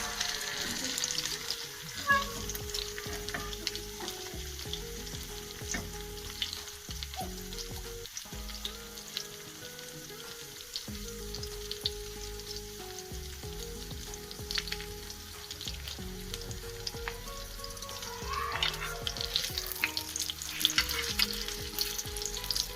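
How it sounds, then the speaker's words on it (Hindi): Potato-stuffed bread rolls shallow-fry in a little oil on a flat tawa griddle, producing a steady, close, continuous sizzle with occasional stirring and scraping sounds. "अब हम इसे तवे पे फ्राई करेंगे।"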